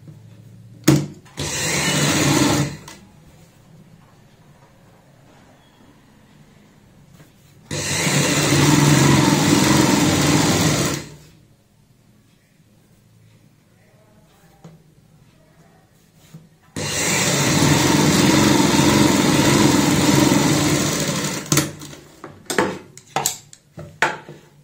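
A sewing machine stitches a kurti neck strip in three loud, steady whirring runs of several seconds each, separated by quiet pauses and brief handling clicks.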